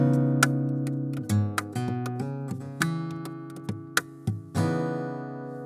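Fingerstyle acoustic guitar recorded by microphone with no processing, close and loud, ringing chords with sharp string clicks and percussive taps mixed into the notes.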